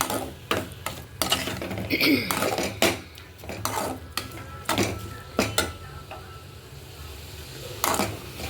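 Tomatoes being crushed with a spoon in a pan while cooking a Tamil brinjal and drumstick kara kuzhambu, giving repeated scraping clinks and knocks of the spoon against the metal pan at an irregular pace.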